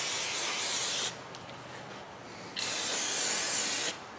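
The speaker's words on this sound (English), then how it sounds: "And we will douche it down with your favorite spray." Crown solvent-free aerosol lubricant with anti-seize sprays onto a Dodge Ram 2500/3500 front hub in two loud, close hissing bursts of about a second each, separated by a short quiet pause.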